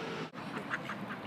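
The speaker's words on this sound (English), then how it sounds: "This is our new duck friend." A duck quacks in a Paris park, a few short calls standing out clearly against steady outdoor background noise.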